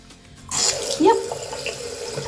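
Water in a stream runs and splashes steadily after a brief quiet start, close by, with a few louder gurgles and splashes rising over the flow.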